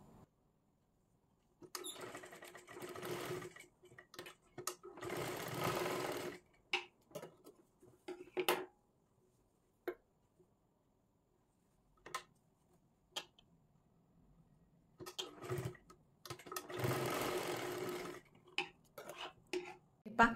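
A sewing machine stitches a frock for a baby girl, running in short close bursts of rapid needle clatter separated by quiet pauses, with no voices.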